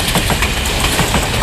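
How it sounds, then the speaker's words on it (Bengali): A train runs along the seaside near Colombo, giving a steady loud rumble with faint rhythmic rail clatter throughout a short stretch, no voices. "সমুদ্রের পাড় দিয়ে এইভাবে ট্রেন যায়, বাস যায়, গাড়ি ঘোড়া চলাচল করে বিচের কিনার দিয়ে।"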